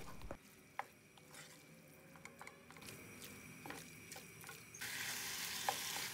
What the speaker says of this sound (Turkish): Yüksek ateşte karıştırarak önce mühürleyelim.